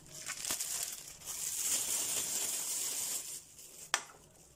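Plastic freezer bags crinkle and rustle as they are handled in a kitchen during pea freezing, a continuous close papery crackle with a couple of sharper snaps.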